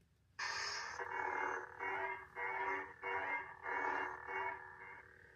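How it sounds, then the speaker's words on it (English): A Sith-style toy lightsaber gives off a steady, buzzy electronic hum that swells and dips in a run of rhythmic pulses, fairly close with no talking. "See, there's that hum I was talking about that you get in like the Sith ones."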